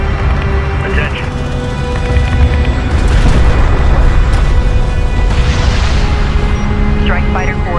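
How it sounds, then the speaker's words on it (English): Heavy booming missile barrage explosions in the strategy game Homeworld: Deserts of Kharak, loud rumbling blasts layered over a droning battle soundscape, growing denser midway through. "Multiple missile signatures detected. Missile barrage in the air."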